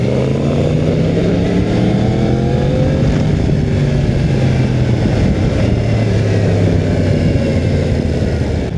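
Yamaha MT-10 motorcycle engine under way, a loud continuous roar with rising and falling harmonic pitch as the rider changes speed and gears, steady wind and road noise throughout, no voices.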